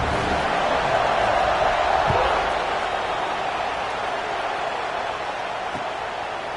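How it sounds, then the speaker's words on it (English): A football stadium crowd in a Madden game holds a steady, loud roar of cheering throughout, a continuous dense crowd noise with no standout voices. "this crowd now ready to get behind them"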